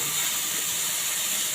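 Tomatoes stir-fry in a pan while Marathi-style tempered rice is being made, giving a steady, close, even hiss with no break and no voices.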